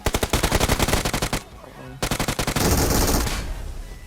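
Automatic weapon fire in the mobile battle-royale game PUBG Mobile, loud rapid bursts of shots close up, a brief pause, then another quick burst and a sustained roar of fire.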